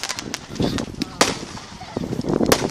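Fireworks go off in a quick series of sharp pops and bangs, some near and some fainter, scattered irregularly over a few seconds with voices faintly audible in between.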